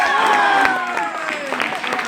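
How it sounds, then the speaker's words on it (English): An audience at a live Double Dare game show claps and cheers for about two seconds, with whoops and voices mixed into the applause. "Give yourself a round of applause."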